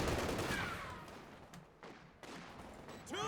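Gunfire from a late-war Panzer II L tank in a World War II strategy video game, a sharp volley burst up front, then scattered shots and battle noise continuing fairly loud throughout.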